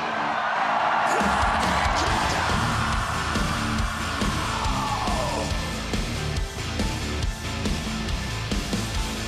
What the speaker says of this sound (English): Scream for me, Liverpool!